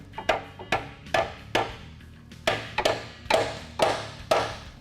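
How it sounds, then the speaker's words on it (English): Sharp metallic hammer strikes ring out at an uneven pace as a socket is hammered onto a nut on a Jeep Wrangler, about a dozen blows, some in quick pairs, close and fairly loud. "we're going to hammer this 12 on"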